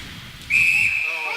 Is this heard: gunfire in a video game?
no